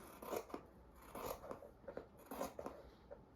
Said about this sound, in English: You can for sure use scissors on this part too.